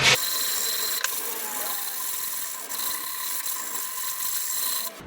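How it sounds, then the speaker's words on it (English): Hand sanding along the edges of a wooden beginner woodworking piece with a curved sheet of sandpaper produces a steady, close, dry rasping rub that runs continuously with a couple of brief clicks. "you can actually curve the piece of sandpaper the way you want in order to get the profile you would like"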